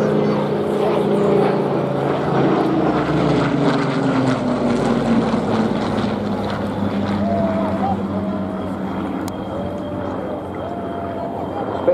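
A Spitfire Mark 19 with its Griffon engine flies past at an air show, a loud, sustained propeller drone that rolls steadily overhead and slowly fades, with crowd chatter and talk underneath.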